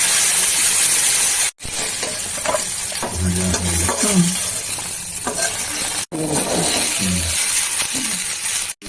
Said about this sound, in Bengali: দিয়ে দিলাম ভাজতে।